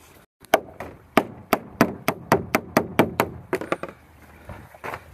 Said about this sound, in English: We need the mallet.